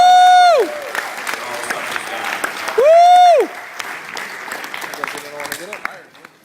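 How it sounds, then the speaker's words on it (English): An audience at the Hasbro Marvel panel at San Diego Comic-Con 2012 bursts into applause, with two loud sweeping whoops rising above the clapping, then keeps applauding more steadily. "You deserve a round of applause."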